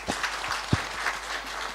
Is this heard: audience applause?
yes